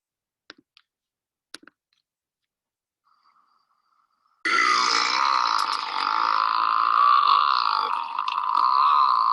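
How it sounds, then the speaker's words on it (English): One long, loud, droning burp starts suddenly after a few faint clicks and near-silence, then holds steady for about five seconds up close. "did anybody happen to count how many seconds that burp lasted about?"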